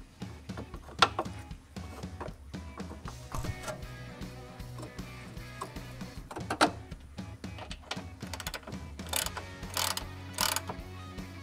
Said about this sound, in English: then I'm going to jack up on it